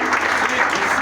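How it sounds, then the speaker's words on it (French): Guests at a French wedding ceremony applauding the newly declared couple, loud, dense and steady clapping filling the room from start to finish. "Je vous demande de les applaudir, s'il vous plaît."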